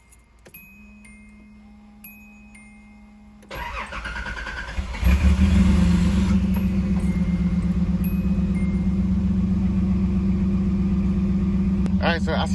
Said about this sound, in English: the car started up pretty good at its first time